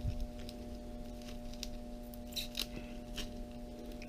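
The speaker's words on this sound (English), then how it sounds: "I'll go ahead and pull off the tape real quick." Tape being pulled off a cardboard box of 20 S&B 7.62x39 ammunition, a few short scratchy rips over a steady background hum, fairly quiet and close.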